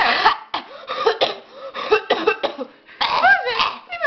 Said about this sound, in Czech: ty máš záchvat. záchvat kašle